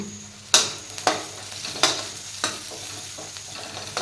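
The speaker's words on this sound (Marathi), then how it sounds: "हळद थोडीशी भाजून घ्यायची." Ground turmeric roasting with onion and garlic in a pan for a cauliflower dish, heard as a soft continuous sizzle broken by four or five sharp spoon knocks and scrapes against the pan.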